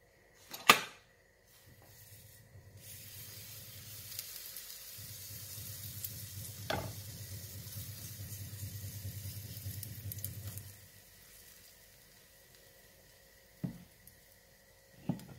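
Small pancakes for breakfast fry in a pan with a soft, close sizzle that runs for several seconds, set between a few sharp clinks and knocks of utensils and no talking.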